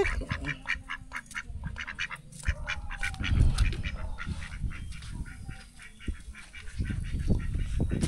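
Two ducks quack and honk in dense, repeated bursts close by, a busy rhythmic chorus of calls lasting throughout with louder flurries near the start and end.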